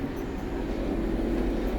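A Merseyrail train rolls into Southport station, a steady low rumble with faint wheel and brake tones throughout, no voices.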